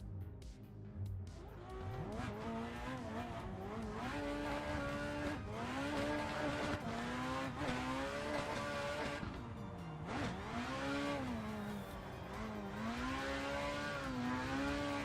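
A drift car runs at full throttle and full lock along a wall, its engine revving hard and continuously, pitch swinging up and down, with tyre squeal and skidding mixed in, loud and close, no voices.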